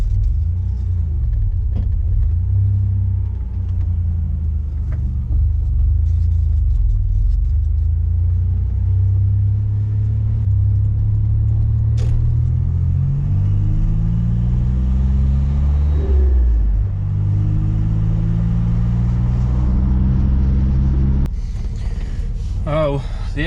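A Nissan Navara with a VG30 engine cruises at part throttle, a loud low engine rumble rising and falling in pitch as it pulls through gears, with cabin road noise throughout.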